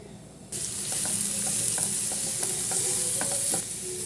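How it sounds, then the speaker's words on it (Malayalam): Sliced onions dropped into melted butter in a pan for lasagna masala, the sizzle jumping up loudly after a quieter start, with steady stirring scrapes and small clinks. "ആദ്യം നമുക്ക് ഈ മസാല ഒന്ന് വയറ്റിയെടുക്കാം നമുക്കിതിലേക്ക് സവാള ഇട്ട് കൊടുക്കാം"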